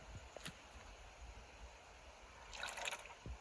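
Faint, sparse drips of antifreeze coolant falling from a Mercedes-Benz 240D into a pan against a low background hiss, a few soft taps spread over a few seconds.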